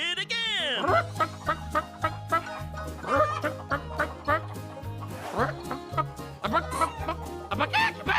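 A hen clucks repeatedly over a bouncy, rhythmic children's nursery tune, with a drawn-out squawk at the start and a voice joining in.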